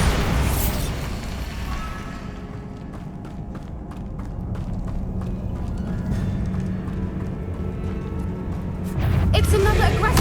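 Bombarda and Confringo spell blasts in the Hogwarts Legacy game, a dense run of loud bursts and booms over a constant low rumble, with a heavier surge at the end.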